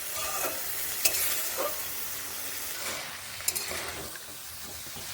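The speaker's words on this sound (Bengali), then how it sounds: "বেশ ভালোভাবেই এগুলোকে এইভাবে কষিয়ে নিচ্ছি" Beans and mixed vegetables sauté in a pan while a spoon stirs them, giving a soft steady sizzle broken by a few sharp scrapes and clinks against the metal.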